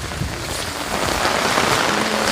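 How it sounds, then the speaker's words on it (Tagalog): Steady rain pours down, a dense, even hiss of drops hitting surfaces, close and continuous with no voices. "Ito ako, basang-basa sa ulan,"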